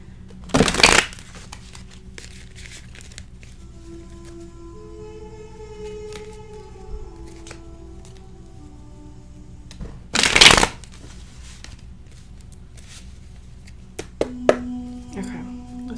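Oracle cards shuffled by hand in two short, sharp riffling bursts about ten seconds apart, near and crisp, with a quiet room and faint hum between and a brief tonal sound near the end.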